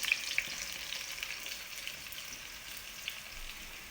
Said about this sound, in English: We're trying to caramelize this eggplant.